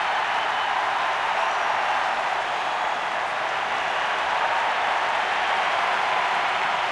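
A baseball stadium crowd roars and cheers for a two-run home run, a dense continuous wall of cheering and applause, loud and unbroken from start to finish.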